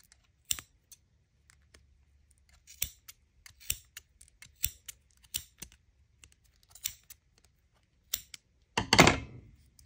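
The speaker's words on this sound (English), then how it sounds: "take your scissors right along that, and you're going to just cut those yarn pieces right up the center" Scissors snip through pieces of yarn for a pom pom: a series of sharp, close clicks and cuts spaced irregularly over a quiet background, ending in a louder rustling burst.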